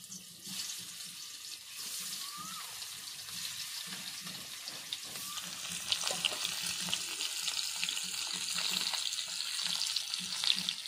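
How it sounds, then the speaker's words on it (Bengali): Fish rubbed with salt and turmeric frying in hot oil in a home kitchen, a steady close sizzle with crackling spatters that grows slightly louder partway through, with no voices. "লবণ হলুদ মাখানো মাছগুলো ভেজে নেব"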